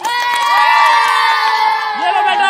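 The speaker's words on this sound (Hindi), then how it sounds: "काटन की फटी हुई सलवार मुबारक हो तालियां" A game show studio audience cheering and shouting together, loud and continuous for the whole moment, with excited voices rising and falling.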